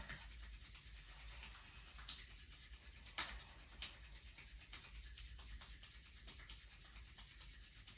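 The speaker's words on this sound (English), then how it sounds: "bringing your hands back to center one more time, rubbing them together. Nice warming friction." Two hands rubbing briskly together for warming friction during a gentle practice, a steady, close, continuous swishing scrape with a couple of brief louder strokes, and no talking.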